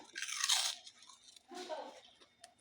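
Crunchy salad eaten at a meal: two bursts of close, wet crunching and chewing, the first louder and longer, the second after a brief pause, with no talk.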